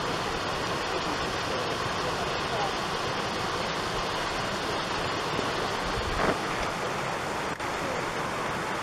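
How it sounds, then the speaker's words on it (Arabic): Water pours steadily down from rocks at a scenic spot in Jijel, Algeria, a continuous broadband rush heard outdoors with some wind buffeting and no clear voices. "الماء كما ترون ينهال من هناك"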